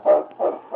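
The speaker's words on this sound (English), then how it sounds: "It's Yukon King, swiftest and strongest lead dog of the Northwest" A husky lead dog barks in an old radio drama, three deep, rounded woofs in quick succession, close and clear.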